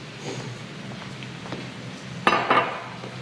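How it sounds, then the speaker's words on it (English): Eggs being whisked in a bowl: soft scraping and light clinking, with a louder cluster of quick metallic taps near the end. "We'll whisk these up so we get some good consistency with our yolks."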